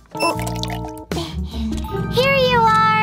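Water is poured in a cartoon, a bright gurgling fill whose pitch rises steadily as it goes, following short tonal cartoon sounds at the start.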